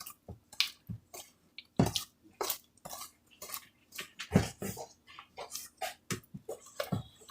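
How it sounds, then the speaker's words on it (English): A spoon stirring molasses into a thick mixture in a bowl, a close, irregular series of knocks, scrapes and sticky clicks against the sides, quiet between strokes, with no talk. "So I'm going to stir in this molasses."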